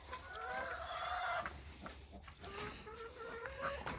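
Chickens on a family farm clucking and complaining nearby, a steady run of low murmuring clucks and rising squawks over faint background noise.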